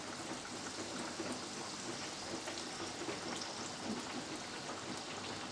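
Oats-coated banana pieces frying in hot oil in a pan, a steady, dense crackling hiss that continues evenly throughout at moderate volume.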